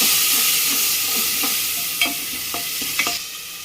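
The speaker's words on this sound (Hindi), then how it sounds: "मीट मसला को हमें हल्का फ्राई करबा।" Meat masala fries lightly in a pan and gets stirred, with a steady low sizzle running throughout and a few sharp spoon scrapes against the metal toward the end, close and alone.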